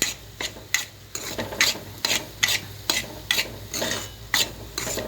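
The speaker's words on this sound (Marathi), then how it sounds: "रवा टाकून घेऊया चांगलासा खरपूस भाजून घ्यायचा तुपामध्ये" Semolina roasting in ghee for sweet sheera, stirred with a spoon in a pan, giving repeated rhythmic scraping and rasping strokes close up with a soft sizzle beneath, no voices.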